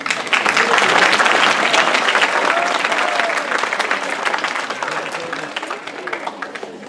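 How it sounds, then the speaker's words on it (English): A middle school auditorium audience at a Willy Wonka Junior production gives a sustained, loud round of applause, dense clapping with crowd noise that slowly tapers. "So I'm just going to ask that you all give yourselves a quick round of applause"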